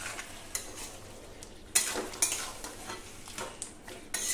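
Chicken curry with fried potatoes stirred in a pan, a spoon scraping and clinking in short bursts over a soft background sizzle, with a few sharper strokes spaced irregularly.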